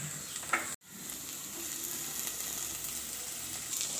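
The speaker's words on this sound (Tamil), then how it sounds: "இஞ்சி பூண்டு பேஸ்ட் சேர்த்துக்கலாம்." Ginger garlic paste sizzles in a pan over sautéed onions for a green gram kurma, a steady close frying hiss with a brief cut near the start and faint stirring scrapes.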